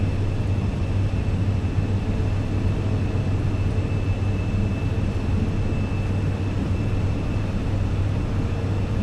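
An aircraft landing at Singapore Changi airport in Microsoft Flight Simulator 2024 produces a steady, loud engine roar with a constant broadband rumble and a faint high whine that holds evenly throughout, with no talking.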